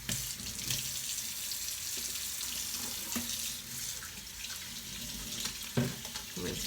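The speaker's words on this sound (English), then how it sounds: "Rinse my handy dandy cutting board off." Tap water runs steadily into a kitchen sink as a cutting board used for chopping tomatoes is rinsed, giving a constant splashing hiss with a few clatters as the board shifts under the stream.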